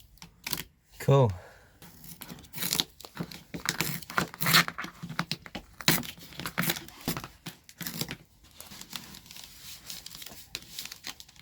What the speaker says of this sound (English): peel off all the sort of excess where it's sticking on twice